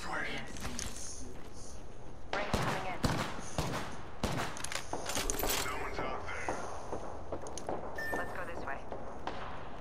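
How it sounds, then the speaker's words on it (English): Enemy gunfire in a shooter video game, bursts of shots cracking repeatedly at mid distance amid mechanical clatter and game effects, with a voice talking over parts of it. "they would be shooting at me with narcs"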